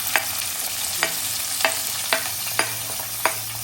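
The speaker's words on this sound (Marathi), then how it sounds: "आता ज्या अख्खा खडा मसाला टाकला पहिला मी आता आपल्याला टाकायचा मस्त कांदा" Onion frying in a pot of oil with whole spices for a spicy village chicken curry, a dense constant sizzle punctuated by about six sharp spoon taps at uneven intervals, close and with no voices.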